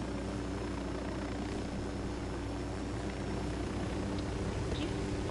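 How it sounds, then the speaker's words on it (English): Helicopter in the tactical shooter game Ghost Recon Wildlands, a steady loud rotor and engine drone hovering near the ground throughout with no one speaking. "Park the helicopter right next to the guy's car."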